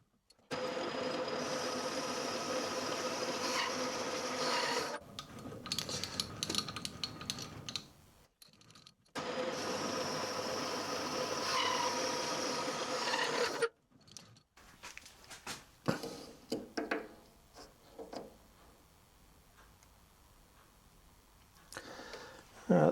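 A lathe cuts the spindle body for a Quorn Mk3 tool grinder, throwing off swarf. A loud, steady machining whir breaks off abruptly a few times, then settles into quieter intermittent clicks and light tool noise.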